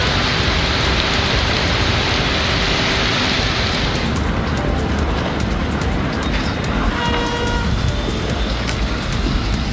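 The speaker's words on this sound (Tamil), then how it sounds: "ஆலந்தூர், விமான நிலையம், குரோம்பேட்டை, தாம்பரம், பெருங்குளத்தூர் உள்ளிட்ட பகுதிகளில் கனமழை பெய்தது" Heavy rain pours onto roads in the suburbs of Chennai, a loud, dense, unbroken hiss that fills the whole stretch, with faint traffic noise underneath.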